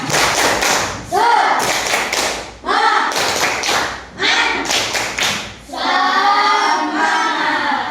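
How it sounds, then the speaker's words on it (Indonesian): Schoolchildren in a classroom perform a rhythmic spirit clap, loud bursts of unison clapping and thumping in short patterned phrases, with shouted chanting mixed between the claps. "Tepuk semangat."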